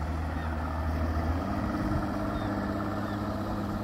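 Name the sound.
fishing motorboat with big engine passing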